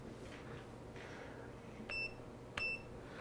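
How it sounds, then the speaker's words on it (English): A multimeter set to continuity mode gives two short high beeps a little apart, the second stronger, over a faint background hum in a lab. "it basically turns your meter into something that beeps if the two probes are touching"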